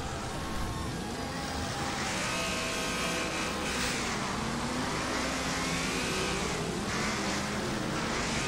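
The Outlaw, a B-class car in the racing game Wreckfest, revs its engine in a sustained, loud, rising and falling roar that runs continuously with no talking.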